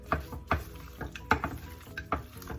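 Curried goat meat cooks slowly in a pot on the stove, with a soft sizzle under repeated rhythmic stirring thumps and scrapes, close by.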